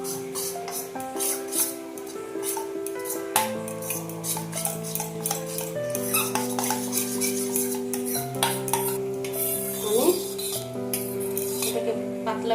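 A spoon stirs cornflour slurry in a bowl for restaurant-style chilli chicken, a steady run of light scraping and clinking close by, with a faint background hum and no talk.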